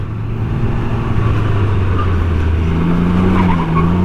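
A 2019 Can-Am Ryker three-wheeler skids on an inside locked wheel, a loud continuous tire squeal layered over a droning engine, close and sustained for the whole stretch.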